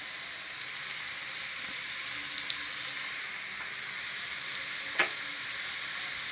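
Curry-leaf namakpara dough, a savoury Diwali snack, fries in hot oil with a steady, close sizzle and a few small pops, with no talk.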